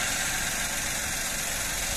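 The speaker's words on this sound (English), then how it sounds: "engine sound very nice and smooth." A Toyota Aygo 1 litre petrol engine idles steadily in a clean engine bay, a smooth continuous broadband hum with faint vibration, fairly close and constant throughout with no talk.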